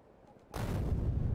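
Grenade blasts in the video game Factorio burst in after a quiet moment and hold as a loud, dense rumble of overlapping explosions.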